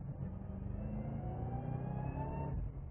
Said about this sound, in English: here we are, Toronto Motorsports Park in the Shelby Supersnake